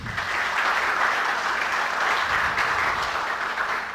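Steady, even applause from a seated audience at a panel discussion on a law reform, greeting a speaker with a dense, continuous wash of clapping at moderate volume.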